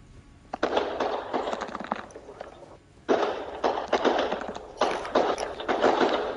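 Crackling, popping bursts of in-game fireworks in Elden Ring, dense and fairly loud, in two long volleys separated by a brief lull, with no talk over them.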